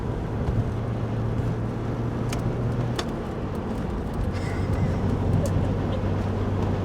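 Steady low drone of a Porsche without a working clutch cruising in fifth gear on interstate I-40 leaving Gallup, a continuous engine and road rumble with wind noise heard from inside the car.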